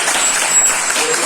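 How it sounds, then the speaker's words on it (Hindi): Loud audience applause at a school speech event in Sopore, a brief dense burst of many hands clapping with no words over it. "एक बार आप फिर ताली बजाएं जोर से."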